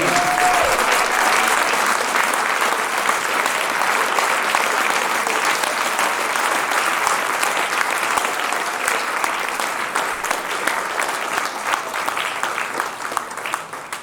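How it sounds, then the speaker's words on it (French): A concert audience at a town band's Téléton charity performance applauds the drummer loudly, a thick, steady wash of clapping that holds for the whole span and eases only slightly near the end. "on peut l'applaudir très fort"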